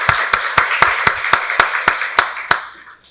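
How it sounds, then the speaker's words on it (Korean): Slow, evenly spaced group clapping from a church congregation at a Sunday worship service, about eleven loud, sharp claps in unison at a steady rhythm before fading out. "박수로 하나님께 영광 돌리겠습니다"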